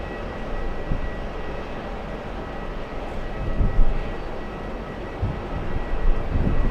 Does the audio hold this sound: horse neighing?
no